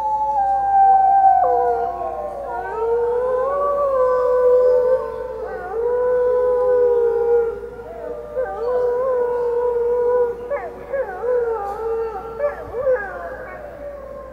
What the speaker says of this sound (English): The other wolves you hear are about 70 yards away in those trees.